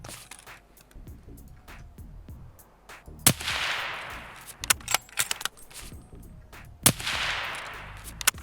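Gunfire in the shooter game Escape From Tarkov, two loud distant-sounding shots with long echoing tails rolling out after each, over a busy ambient background with scattered smaller clicks and rustles.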